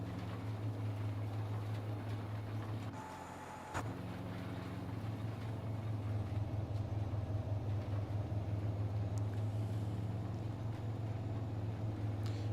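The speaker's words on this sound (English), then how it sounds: "I love the way this tractor sounds on the inside." A tractor engine in Farming Simulator 22 drones steadily as heard from inside the cab, a low, muffled hum with pulsing rumble, briefly dipping then resuming, along with a few faint clicks and no speech.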